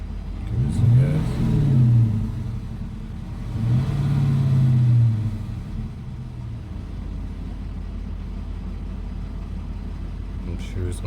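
A 2015 Dodge Charger Hemi V8 with an oil pressure sensor circuit fault is revved twice at idle. Each rev swells and falls back to a steady, close, low rumble, with people talking nearby.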